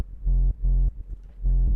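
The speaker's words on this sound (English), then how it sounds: "Once you do that, you should get your kick and your bass." A deep, booming kick drum pulses with a low bass line in a repeating groove, close and loud with short gaps between hits.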